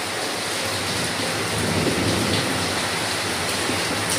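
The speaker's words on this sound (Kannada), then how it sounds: "ಚೆನ್ನಾಗಿ ಉಯ್ತಾಯ್ತದೆ ಮಳೆ." Heavy rain pours down steadily as a dense, constant hiss, loud and close. A low rumble of thunder runs beneath it and nobody speaks.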